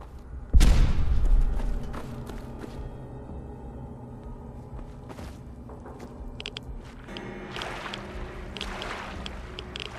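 A loud explosive detonation in Fallout 4 bursts with a heavy boom near the start, then rumbles and decays, followed by quieter ambient game sounds and scattered thuds.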